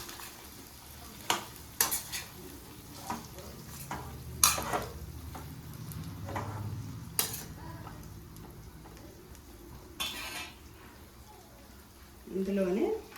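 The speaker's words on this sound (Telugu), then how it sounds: "ఇందులో చేప ముక్కలు వేసేసుకుంటున్నాం." Fish pieces go into hot fried masala for a Kerala-style fish pickle, giving a soft sizzle broken by clinks and scrapes of a spoon against the pan, while someone talks throughout.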